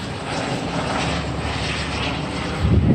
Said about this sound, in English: I think that's the second helicopter